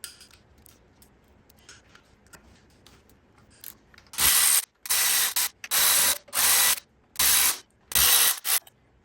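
A ratchet loosens bolts on a Porsche Boxster 986 engine in six loud, rasping bursts of clicking that follow quieter handling and tapping.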